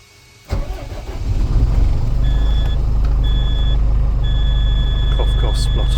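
A DAF LF45 truck's engine cranks, catches and settles into a loud, steady idle close by, with a beeping tone sounding in spaced bursts over the running engine.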